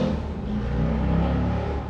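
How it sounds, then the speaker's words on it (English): BMW F82 M4 fitted with an Active Autowerke equal-length exhaust, giving a low, steady engine rumble with a slight swell partway through, fairly close and with no talking. "This is the Active Auto Works Equal Link exhaust. Sounds good."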